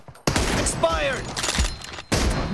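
Gunfire from an M24 rifle and other guns in a BGMI team deathmatch battle, with sharp loud shots in bursts across the clip, a short silent gap, then more shots over game sounds and brief voice chatter.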